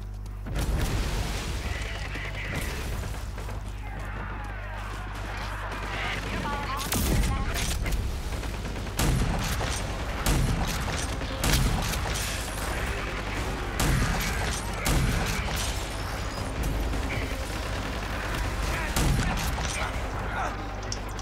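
Shotgun and rocket launcher fire in RAGE 2, a run of heavy booming blasts and gunfire repeating every couple of seconds over continuous loud combat noise, with talk underneath.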